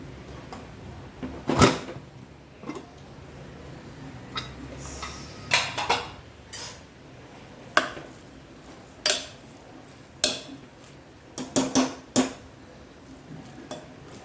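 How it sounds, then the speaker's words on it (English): A pressure cooker is opened in a home kitchen where khichadi was cooked, with scattered clinks and clanks of its metal lid and utensils, sharp close taps and knocks spaced irregularly against a quiet background. "Let us now open the cooker."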